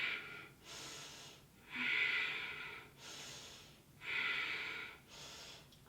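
Deep, audible breaths during a vinyasa yoga class come in slow, regular cycles, each rushing inhale and exhale swelling and fading about every second, near and fairly quiet.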